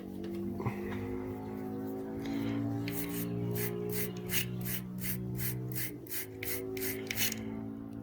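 A small wire brush scrubs a corroded contactor contact in a quick run of about a dozen rhythmic raspy strokes, over a steady low electrical hum, with no talking.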